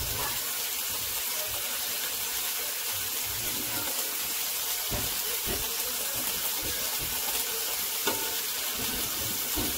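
Chicken breast fries in a pan with a steady, dense sizzle and occasional stirring scrapes, close and continuous with no talking.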